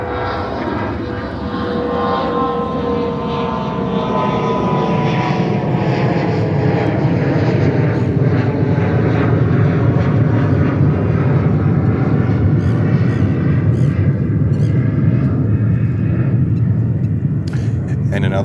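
Endeavour 5012 jet departing JFK Airport in New York, a loud, steady engine roar that holds throughout with a slowly falling whine layered over it.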